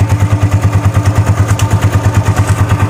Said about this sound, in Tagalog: So ito ipaparinig ko sa inyo yung parang lumalagitik dito sa pinaka head ng ating Beeperman